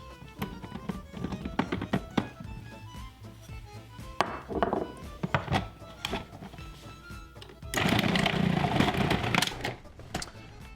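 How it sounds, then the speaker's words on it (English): A Cuisinart food processor slicing olives in a kitchen: irregular close chopping thunks and clatter, then a louder continuous whirring burst toward the end. "we're going to slice all of the olives using the Cuisinart also"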